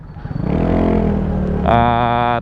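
A Yamaha MT-8 motorcycle fitted with a chicken pipe muffler, only partly open, revs loudly up close: a rising engine roar that jumps into a sharper, higher-pitched buzzing rev near the end, with no talking.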